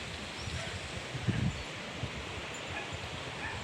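Steady wind blowing outdoors, a soft continuous rush with faint rustling and a brief thump, fairly quiet throughout.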